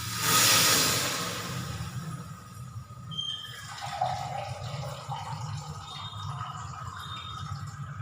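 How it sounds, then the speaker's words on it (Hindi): Two glasses of water splash into a cooking pot of bottle gourd, potato and green chili. There is a loud rushing pour at the start, then a softer, steady watery wash that continues to the end, with no talk. "यहाँ डाल दूँगी मैं यहाँ पे 2 गिलास पानी"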